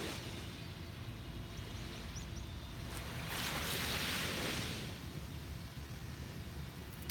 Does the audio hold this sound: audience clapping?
no